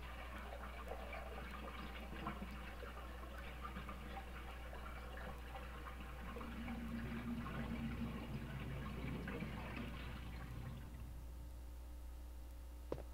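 A bathtub of dirty water being unplugged and draining in Resident Evil 1 on PS1: a faint, steady gurgling swirl of water running out, building midway and cutting off near the end, with a low hum underneath.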